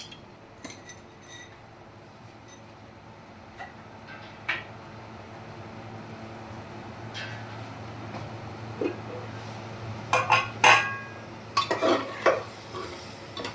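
Stuffed tinda fries in a pan under a low continuous sizzle. A utensil stirs and scrapes it, with sharp clinks against the pan that come in clusters toward the end.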